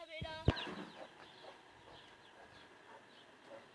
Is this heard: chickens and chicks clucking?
yes